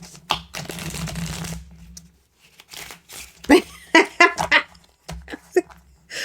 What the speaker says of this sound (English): Okay, so I'm shuffling. I like to show a little shuffle.